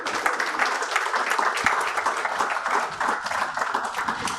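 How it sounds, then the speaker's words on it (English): An audience at a warehousing and supply chain summit gives a report launch steady, moderately loud applause, a dense patter of many hands clapping for several seconds with no talk. "A big round of applause, ladies and gentlemen."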